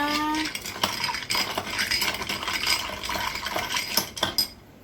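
Ice cubes clink and rattle into a glass for iced lemon tea, a run of sharp, bright clatters and taps spread over several seconds, close and fairly loud, with no talking.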